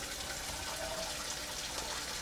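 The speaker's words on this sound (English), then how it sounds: "Let's fill this pan with just enough cold water to submerge the potatoes" Cold water runs into a pan for boiling potatoes, a steady hiss and splashing trickle of flowing liquid that continues evenly throughout, fairly quiet and close.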